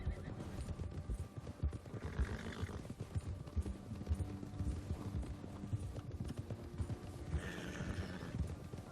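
Horses in Red Dead Redemption 2 gallop in a steady hoofbeat rhythm, with whinnies and neighs rising over the drumming hooves and some voices mixed in.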